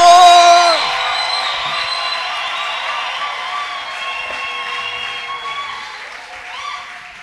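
A church congregation shouts and cheers for joy, with whoops and yells mixed into ongoing applause, loud at first and then settling into a steady crowd roar.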